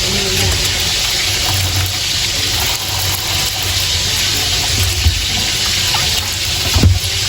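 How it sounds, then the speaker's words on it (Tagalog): Harvested eggplants being rinsed under running tap water, a steady broadband splashing and gushing into a sink that continues without a break, with occasional small clunks and knocks near the end. "Ito po munang mga talong ay akin po munang huhugasan para po nalilinis,"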